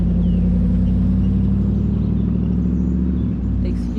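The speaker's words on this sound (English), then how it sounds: "Excuse the loud truck behind me." A heavy, loud engine rumble drones steadily close by, a big vehicle passing with a deep low roar that dips briefly near the end.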